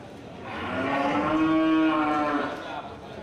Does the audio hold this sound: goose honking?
no